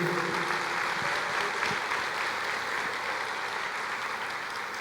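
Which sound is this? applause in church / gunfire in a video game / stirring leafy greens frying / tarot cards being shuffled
applause in church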